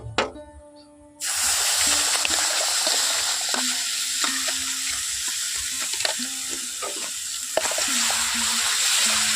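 Grapes hiss and crackle as they fry in hot oil, then a spatula scrapes and taps the pan while a steady loud sizzle continues underneath.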